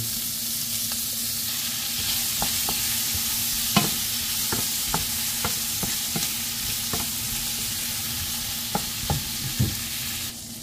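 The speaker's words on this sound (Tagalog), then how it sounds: "butter ang ginamit ko na ipag-fry nitong mga itong atsal at saka white onion" Chopped white onion and achara frying in butter in a home kitchen pan, a steady close sizzle broken by scattered clicks and scrapes of stirring, with a low hum running underneath and no talking.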